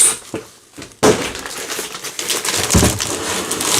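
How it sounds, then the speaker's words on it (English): Plastic parts of a 1/100 scale model kit being peeled out of their packaging case, with a sharp crinkling snap followed by continuous close crackling and rustling, loud, with no speech. "So I'm trying to peel this out of the case."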